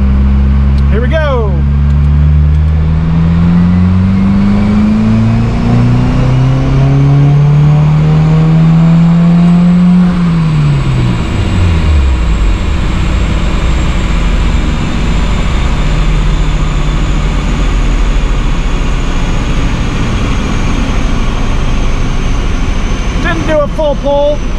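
Subaru WRX (FA24 engine, VB generation) fitted with a Blouch 5056 turbo accelerates hard through a pull, its engine note rising steadily in pitch before cutting off and winding down; loud and close, from inside the car.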